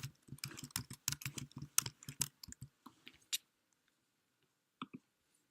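Rapid bursts of keystrokes on a computer keyboard, close and clear, running steadily for about three seconds before stopping, then a final short pair of taps after a pause.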